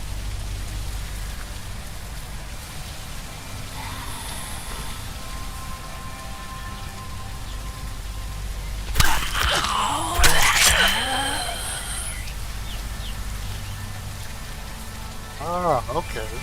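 Rain falls in the zombie survival game HumanItZ as a steady hiss throughout, with a loud burst of sound midway and a voice near the end.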